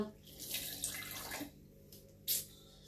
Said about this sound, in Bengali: কত জল পড়েছে দেখো।